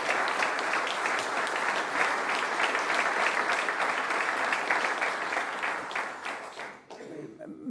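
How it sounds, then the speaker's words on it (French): A television studio audience at a Télé-Grenoble event applauds an award winner with sustained clapping for several seconds, steady and fairly loud before tapering off abruptly near the end. "Je vous demande d'applaudir Laurent Pellissier pour ce prix"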